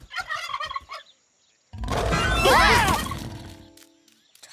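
A short burst of cartoon chatter, a pause, then a loud, rattling turkey gobble that swells and fades away.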